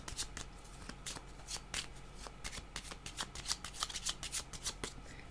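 Playing cards shuffled by hand during a card reading, a quick run of crisp riffling bursts and flicks, fairly close and alone with no talk.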